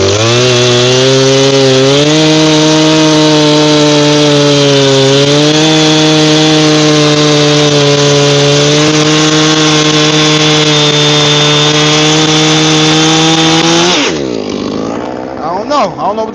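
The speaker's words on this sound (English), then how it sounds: "what other gear do I need to be cutting with a chainsaw here?" Loud, close Husqvarna chainsaw engine snarling at a steady high pitch while cutting logs, revving briefly, then dropping off near the end.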